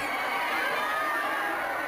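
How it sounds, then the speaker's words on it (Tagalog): A dense crowd of fans screams and cheers continuously at a film premiere night, a bright, shrill wash of shouting with no breaks. "Nakabibinging hiyawan ang sumalubong kina Rufa, Iza, Rufa May at Marian nang dumating sila sa premiere night ng kanilang pelikulang Desperadas."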